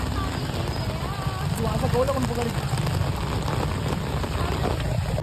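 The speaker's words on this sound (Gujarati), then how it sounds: "બહુ વરસાદ આવે છે અહીંયા." Steady heavy rain hisses loudly throughout at Banbha hill station, a dense continuous wash with faint voices and other sounds buried beneath it.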